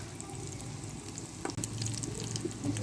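Leftover roti and egg kebabs fry on their second side, a steady close sizzle and crackle of hot oil that continues throughout, with a brief clatter partway through.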